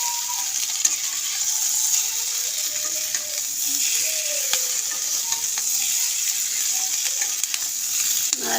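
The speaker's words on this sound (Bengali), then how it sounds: "হলুদ দেওয়ার পরে আবার একটু নাড়াচাড়া করব" Food fries in a pan with turmeric added, giving a steady close sizzle broken by light scrapes and taps of stirring, with no voices.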